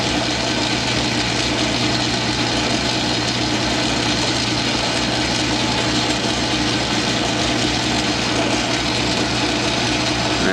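A small 9-inch South Bend lathe with a negative-geometry toolholder taking a heavy cut on metal, a steady loud droning hum with a constant grinding rasp, unbroken throughout.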